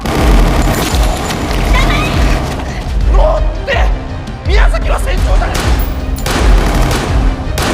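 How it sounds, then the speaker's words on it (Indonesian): Gunfire rattles through a fight scene in an action film, rapid repeated shots and booms layered over a loud music score and sound effects, with bursts throughout. "berusaha untuk menembaki Fuyumura yang terlihat akan menembak Mahiro"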